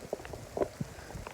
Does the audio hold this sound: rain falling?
yes